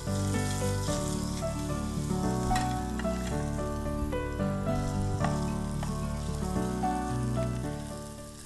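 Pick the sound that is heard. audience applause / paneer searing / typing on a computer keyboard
paneer searing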